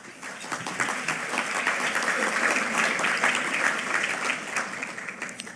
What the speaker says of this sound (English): I was going to ask you to delay your applause until the next statement